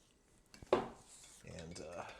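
A metal spoon stirs lemon lime powdered drink mix in a cup, with a sharp clink followed by softer scraping and swirling, close by with no speech.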